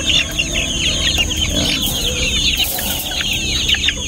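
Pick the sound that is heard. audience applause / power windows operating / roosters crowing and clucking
roosters crowing and clucking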